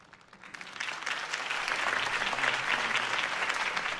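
Applause from a large crowd in the video game Batman: The Telltale Series swells quickly from near silence into dense, continuous clapping that stays loud to the end.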